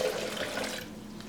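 Spring water pours steadily into a blender jar with Brazil nuts for nut milk, making a brief, close, continuous splashing gurgle.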